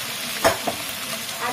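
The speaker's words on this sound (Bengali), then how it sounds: "সেদ্ধ আলুগুলো আমি তেলে দিই।" Boiled potatoes fry in hot oil, a steady sizzle broken by a couple of scraping stirs.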